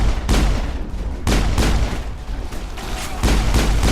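Pistol gunfire from the Mass Effect video game, with three or four loud broadband shots in a slow irregular rhythm over a dense, continuous combat backdrop, with no talk.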